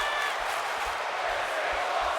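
Video-game wrestling crowd in WWE 2K25 at a Hell in a Cell match, a steady, loud wash of cheering with a commentator's voice faintly underneath.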